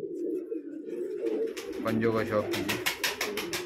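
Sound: pigeons cooing

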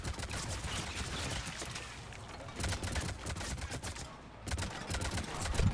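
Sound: gunfire in the video game Mass Effect 3

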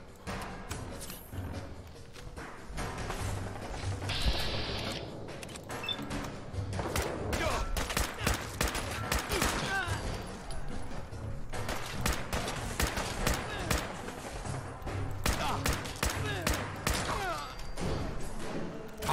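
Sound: gunfire in video game Fallout 4

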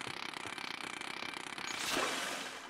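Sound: chainsaw weapon in the video game Splatoon 3

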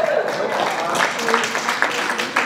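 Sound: audience round of applause

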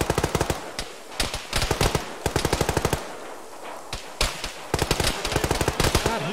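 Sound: machine gun fire in Arma 3 video game

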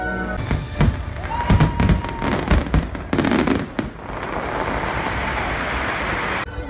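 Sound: fireworks exploding at Magic Kingdom

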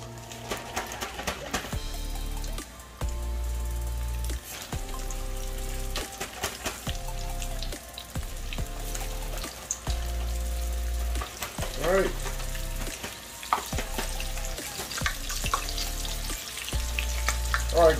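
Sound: spicy buffalo breaded chicken frying in oil

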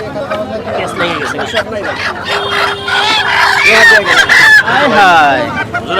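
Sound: chickens clucking at market

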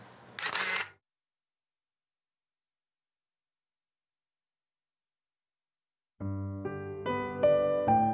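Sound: camera shutter clicking

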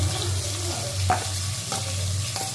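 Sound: whole garlic added to hot pan, sizzling while frying

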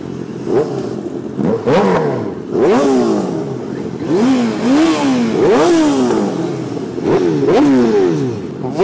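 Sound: sport motorcycle exhausts revving

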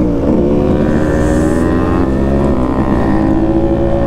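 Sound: Yamaha RX135 motorcycle engine during ride

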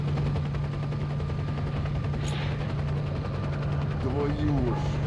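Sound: helicopters in video game S.T.A.L.K.E.R

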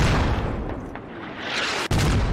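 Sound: mortar fire from the video game Squad

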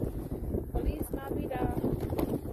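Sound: wind blowing in snowy winter weather

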